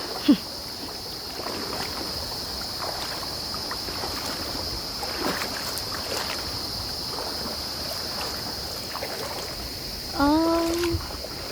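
A steady wash of flowing river water in Oriental Mindoro, Philippines, rushes in the background, with a high constant hiss, a few faint clicks and a brief voice near the end.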